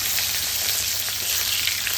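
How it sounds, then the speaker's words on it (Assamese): Potatoes fry in a pan with oil for a Bengali fish curry, giving a steady dense sizzle close to the microphone with no talking. "এতিয়া আলু দি দিলোঁ, ফ্ৰাই হ'ব।"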